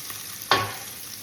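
Meatballs browning in a hot pan give a single sharp sizzling burst as they are rolled over, which fades to a faint hiss.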